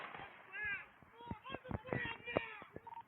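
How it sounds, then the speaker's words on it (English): Several sharp gunshots ring out during a police confrontation, mixed in with people shouting and yelling over them at mid distance. "Shots fired, shots fired."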